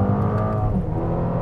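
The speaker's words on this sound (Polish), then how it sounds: "Strzela wydech pięknie." A Mercedes-AMG A35 drives through a mountain bend, its exhaust roaring steadily up close with a revving engine note, any pops blending into the continuous drone.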